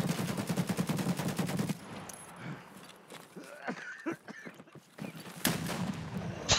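Automatic weapon fire in a shooter video game, a fast rapid-fire burst up front, then scattered clicks and movement sounds, and another loud shot near the end.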